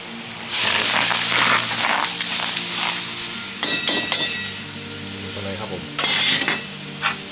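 Loud bubbling and sizzling as pickled bamboo shoots drop into boiling water, with splashing bursts and clatter over a steady low hum.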